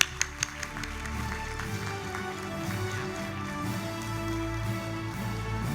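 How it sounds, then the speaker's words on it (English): Crowd applause at a chartered accountancy students' national conference, a steady, moderately loud patter of many hands after a few sharp initial claps, with a low hum and faint background tones underneath. "A big round of applause, please."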